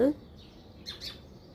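A single bird calls with a brief pair of sharp, squawking notes at moderate distance, following a short low sound at the start, then quiet.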